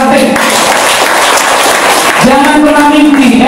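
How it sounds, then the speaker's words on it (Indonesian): Crowd applause at an outdoor NU anniversary rally in Bawean, a loud, dense wash of clapping that runs throughout, with a voice starting to speak over it near the end. "Tepuk tangan dulu ranting."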